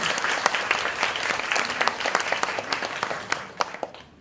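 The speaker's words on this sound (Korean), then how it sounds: "큰 박수 부탁드리겠습니다." Audience applause for judges being introduced before the final of a youth debate competition on unification, a steady wash of many hands clapping in a hall, sustained and fairly loud, then fading toward the end.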